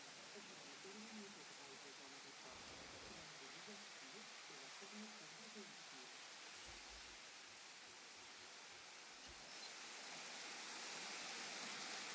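Rain falls in the video game Jurassic World Evolution as a steady broadband hiss that grows slightly louder toward the end, with people talking over it.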